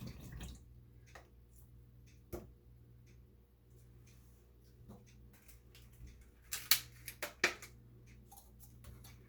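Blueberries and raspberries are rinsed in a bowl of reused water in a home kitchen, giving faint, scattered drips and small splashes in a quiet room, with a brief cluster of sharper clinks and splashes near the end.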